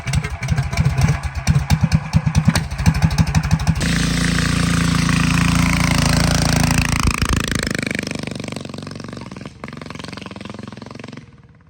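A Big Block Baja Warrior mini bike engine with a slipping clutch chugs at idle, then revs up into a loud, sustained roar that slowly winds down to a fading putter.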